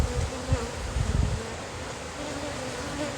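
A dense, steady drone of many honey bees buzzing together in a nucleus hive, close by, with a few louder low thumps early on.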